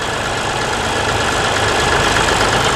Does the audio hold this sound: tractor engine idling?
yes